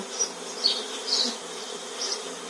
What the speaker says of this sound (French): il y a 2 paquets d'abeilles qui sont tombés avec une cinquantaine d'abeilles à chaque fois